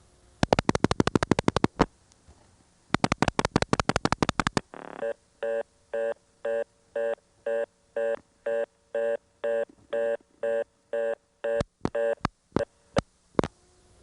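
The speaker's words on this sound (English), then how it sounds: "Here's a reorder tone there." ITT Pentaconta crossbar exchange in Asheboro, North Carolina, 1977: two quick bursts of dialing tones, then a fast-interrupted reorder tone beeping evenly about twice a second, ending in a few sharp clicks.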